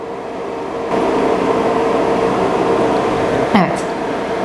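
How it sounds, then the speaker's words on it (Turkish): A small electric fan, its speed set through an Arduino-controlled potentiometer, starts up about a second in and runs with a steady, close humming whine. A brief knock or bump is heard partway through. "Şu anda gördüğünüz gibi fanım çalışıyor."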